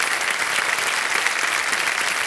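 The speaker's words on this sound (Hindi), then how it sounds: "जोरदार तालियां बज जाएं" A studio audience on a Hindi television quiz show breaks into loud, dense applause that carries on steadily, with no voices standing out above the clapping.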